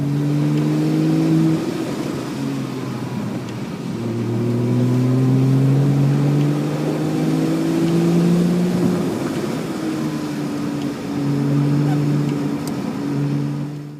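Race car engine held in third gear on a wet track at Eagles Canyon Raceway, loud close in-car drone with rising and falling tones as it drifts through a corner.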